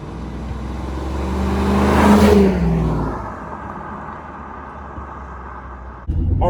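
A C4 Chevrolet Corvette engine revs up while driving, rising to a loud peak then easing off into a steady cabin drone, with a sharp knock near the end.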